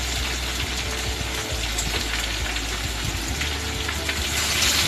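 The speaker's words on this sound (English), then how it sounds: "Heat 2 tablespoons of mustard oil in a pan and put all the mangoes with a pinch of turmeric to it" Mangoes with a pinch of turmeric fry in hot mustard oil in a pan for a kachha mango ginger pickle, giving a steady, dense sizzle that crackles evenly throughout with no talk.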